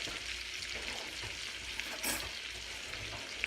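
Onions and garlic frying in a pan for bacon and shrimp alfredo, giving a steady close sizzle throughout with a brief louder crackling burst midway as the pan is stirred.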